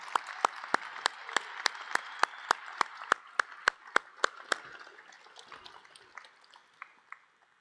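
An audience at a university athletics stole ceremony applauds in a clear, fairly faint burst of claps, with sharp individual slaps standing out in a steady rhythm before the applause thins and trails off.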